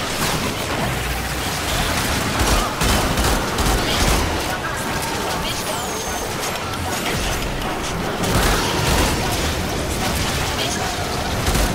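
Dense, continuous gunfire and booming blasts from the video game Warframe, loud and sustained throughout with repeated bursts, mixed with game effects and a voice talking over the action.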